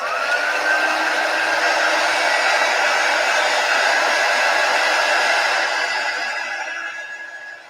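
A hair dryer drying a chalk transfer on a white board, blowing as a steady, loud, close whir for several seconds before easing off at the end.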